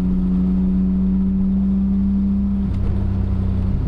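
A Suzuki Cappuccino's small three-cylinder engine drones steadily while driving, with a rough, buzzy hum that drops in pitch near the end as the revs change.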